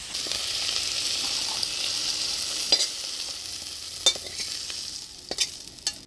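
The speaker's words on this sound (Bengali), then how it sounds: "মাছটা ভাজে নিলাম, এবার নামিয়ে নিই।" Fish, likely katla, frying in a pan with a steady hissing sizzle, punctuated by a few sharp clinks and spatters toward the end; no one speaks.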